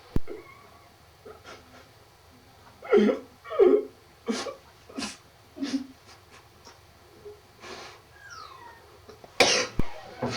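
A person coughs repeatedly at close range: a string of separate, throaty bursts, some rough and breathy, with short gaps and a sharp final cough.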